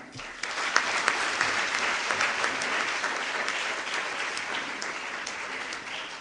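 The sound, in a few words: audience applause for teachers at school event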